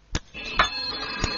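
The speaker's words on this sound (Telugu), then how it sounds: "గీతకా, నీకే ఫోన్." A telephone rings faintly in a house scene from the Telugu film Geetanjali, with a few short repeated pulses over a soft continuous tone.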